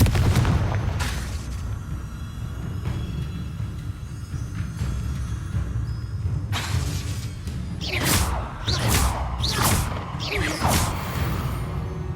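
In the Hogwarts Legacy video game, a Confringo fire spell sets off a low rumbling boom, followed by several swooshing, crackling bursts in quick succession.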